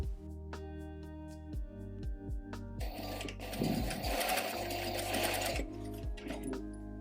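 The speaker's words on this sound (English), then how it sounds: "Sew the side seam of the skirt with the right sides together." A sewing machine stitches the side seam of a dress skirt, first in short rhythmic bursts of needle strokes, then in a longer, louder continuous run before slowing again, close and clear with no talking.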